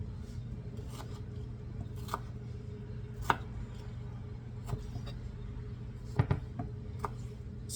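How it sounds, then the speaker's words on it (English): A kitchen knife dices ingredients very small on a cutting board for a black olive, herb and tomato vinaigrette, giving sparse, quiet, irregular chopping taps spread out over several seconds. "So they want us to cut this really small and dice it up."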